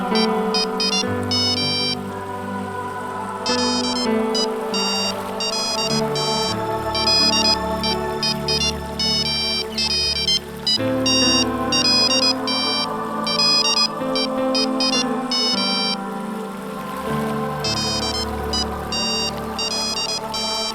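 A mobile phone ringtone plays loudly and continuously, a bright repeating electronic melody with steady pulses and a busy musical backing, with no one talking.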